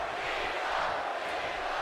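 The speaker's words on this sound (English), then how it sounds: "And now the crowd comes to life." A wrestling arena crowd in the WWE 2K18 video game roars in a steady, dense wash of cheering with no distinct breaks, moderately loud and continuous.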